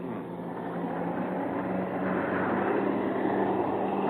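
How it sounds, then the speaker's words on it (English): Steady roaring engine drone of Russian jet aircraft flying overhead, continuous and fairly loud, with no voices. "What are Russian jets doing here?"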